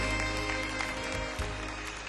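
An audience at a Korean esports team send-off ceremony claps together in steady, dense applause that fills the hall, with faint murmuring underneath.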